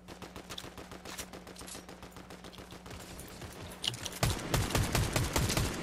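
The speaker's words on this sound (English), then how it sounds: "Oh, they're back here shooting." Rapid Fortnite gunfire, a steady stream of close sharp shots in quick succession that grows louder and heavier toward the end, with no talk over it.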